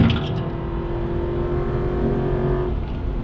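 An Aston Martin V8 Vantage engine drones steadily while driving, a loud, even hum heard from inside the car that eases slightly near the end, with no talking.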